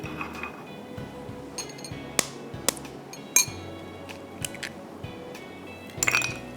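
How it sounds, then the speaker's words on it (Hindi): An egg dropped into a glass bowl, with sharp glassy clinks and taps ringing out several times among quieter kitchen handling, close and fairly crisp. "फिर मैं इसमें डाल रही हूँ 1 एग"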